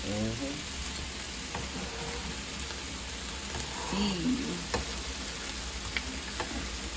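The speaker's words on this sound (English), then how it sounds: "look at the chicken on the grill over here" Chicken sizzles and fries on a griddle grill in a steady, moderately quiet hiss, with occasional faint clicks and brief background voices.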